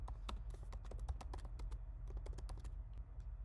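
Fast, uneven keystrokes on a computer keyboard while a search is typed, close and crisp, with clicks tapping out steadily for a few seconds and no talk.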